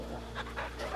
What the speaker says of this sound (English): Come on, let me pet the doggy.